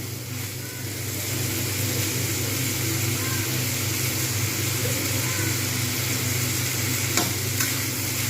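Chunks of kohlrabi and potato stir-fry in a pan for a Bengali dalna, giving a steady, moderately loud sizzle with soft scraping of stirring throughout.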